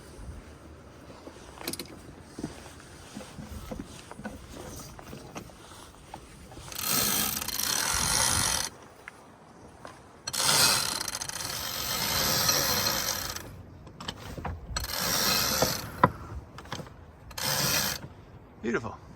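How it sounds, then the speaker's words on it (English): A sailboat's sail being pulled out with a ratcheting winch, set up with a whisker pole off Spain's northwest coast, heard as several bursts of rapid, loud clicking and whirring, each lasting a few seconds, close up with a gap between them. "Just set up the whisker pole. Let's pull out the sail."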